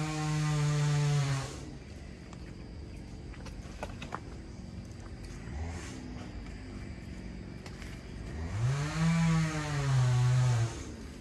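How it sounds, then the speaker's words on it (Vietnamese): A chainsaw revs loudly at the start, idles under faint background noise, then revs up again at the end while cutting a small but steeply leaning mango tree lying on a house roof. "Thì anh Sang sẽ cưa cây xoài"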